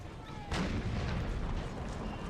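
A cannon shot from an artillery piece in the video game Empire: Total War booms once, loud and sudden, after a quiet start, then fades into a rumbling tail.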